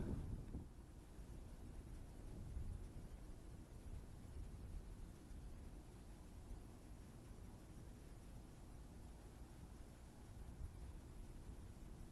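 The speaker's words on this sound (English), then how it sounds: "The wind has picked up a little bit more and it's getting really quite bitter now." Steady, rushing wind buffets the microphone on a cold lakeside fishery, a continuous broadband roar with no pauses and no talking.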